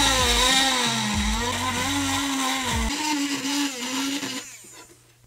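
An electric engraver cuts letters into a stainless steel knife blade, making a continuous buzzing whine that wavers in pitch as the tip moves, then fades out near the end.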